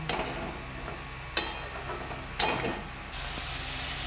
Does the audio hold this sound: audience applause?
no